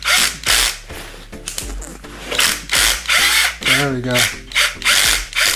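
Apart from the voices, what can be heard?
ratchet torquing bolts on rocker arms, engine build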